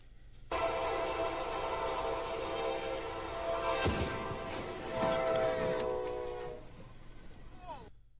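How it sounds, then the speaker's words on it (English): A train roars past with its horn blaring, a heavy crash and metallic clatter rising midway through as it hits a septic truck, and faint voices underneath. "that is a septic truck being hit by a train"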